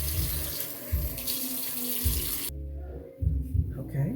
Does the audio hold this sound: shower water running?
yes